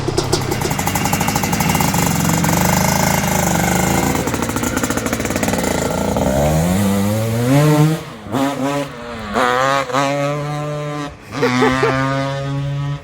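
A Honda 250R ATV engine revs up and down loudly, rising in pitch with several throttle blips and brief drops toward the end.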